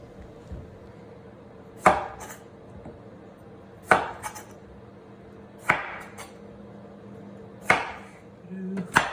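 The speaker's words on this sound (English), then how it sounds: "Next, we'll slice them about 1/4 of an inch thick." A knife slicing sweet potato into fries on a cutting board. Four evenly spaced, crisp chops land about two seconds apart, each with a sharp thud against the board, close and clear over a quiet background.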